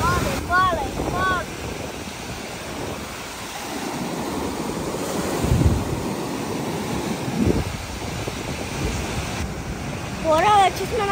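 Surf breaking on a Black Sea shore with steady wind buffeting the microphone, a continuous broad wash that swells and recedes, with brief voices and a distant motor now and then.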